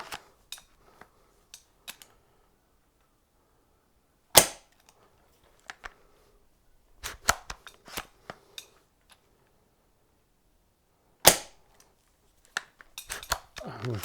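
SRS-A2 airsoft sniper rifle fitted with an EdGi SAP kit, firing through a chronograph: a few sharp, sparse snapping shots separated by long quiet gaps, with small metallic clicks and handling noises in between.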